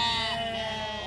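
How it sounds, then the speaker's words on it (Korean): Sheep at a mountain ranch farm in Daegwallyeong, Pyeongchang bleat loudly and continuously in a chorus, several voices overlapping in a sustained, wavering cry close to the listener. "울타리 밖을 나오니 양들이 고맙다고 합창하듯 울어댑니다."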